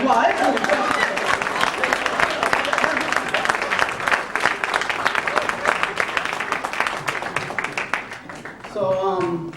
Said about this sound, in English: give me some round of applause